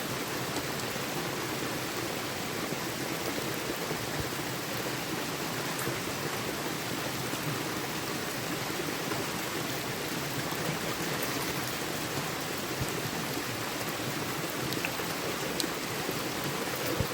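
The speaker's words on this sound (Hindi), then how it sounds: "पानी की बूंदें भी गिर रही हैं ऊपर।" Water drops fall from above beside a cold, deep forest stream, making a steady, close rushing wash with dense patter throughout and no voices.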